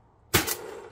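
A single sharp shot from a modified Meteor foam blaster fitted with an upgraded spring and hammer, one loud close crack with a brief ringing tail.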